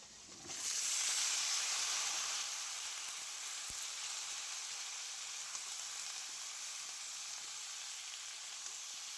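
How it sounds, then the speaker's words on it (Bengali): Pointed gourd and potato pieces sizzle steadily in hot oil in a home kitchen pan, with a louder burst of frying at the start that settles into an even hiss. "এবারে আমি একই সাথে পটলও ভেজে নেব।"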